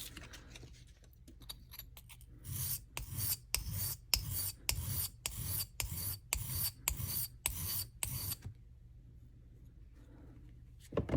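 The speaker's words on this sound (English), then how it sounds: "And this is 1000 grit sandpaper." A Leatherman blade is stroked back and forth on 1000 grit sandpaper, about a dozen even, rhythmic rasping passes close up, then the scraping stops and leaves near silence.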